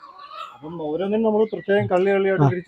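Several medium-sized native chicks of varied breeds, including short-legged Kurungali and Mullan, cheep and call in close, overlapping bursts. The sound is fairly loud and near, with no speech.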